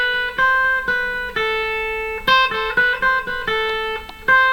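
An electric guitar plays a quick finger warm-up sequence in A harmonic minor, clean picked single notes in a repeating up-and-back pattern, clear and close with no talking.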